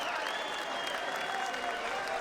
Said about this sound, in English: how about a round of applause for these two warriors?